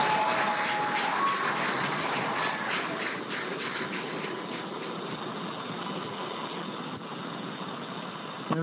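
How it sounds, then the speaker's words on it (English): A large crowd cheers and applauds continuously at a SpaceX Polaris Dawn spacewalk event, a dense roar of clapping and voices that stays loud and steady throughout, easing slightly toward the end. "I have a feeling the crowd is about to go wild."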